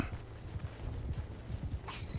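Horse hooves gallop in the video game Mount & Blade 2, a rapid, faint clip-clop rhythm of repeated hoofbeats, with a short whinny-like burst near the end.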